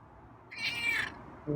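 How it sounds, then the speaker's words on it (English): A single drawn-out cat meow, fairly clear and close, with a low rumble starting right after it ends. "let him meow"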